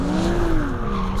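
Ferrari 296 GTS tires squealing as the car slides sideways, a loud sustained screech wavering in pitch over the engine noise.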